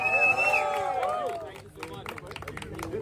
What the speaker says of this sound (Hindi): जोरदार तालियां मेरे बड़े भाई रिजवान साजन के लिए